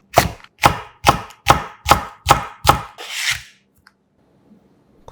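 A knife slices red chili peppers on a cutting board in seven crisp, evenly spaced chops, followed by a short scrape and then near silence.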